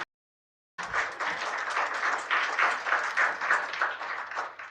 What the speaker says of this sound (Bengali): একবার জোরে করতালি